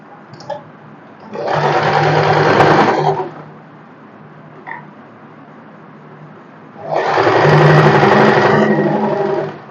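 A sewing machine stitches a salwar in two sustained bursts of rapid, close, whirring stitching, each lasting a couple of seconds, separated by a quiet pause with faint handling clicks.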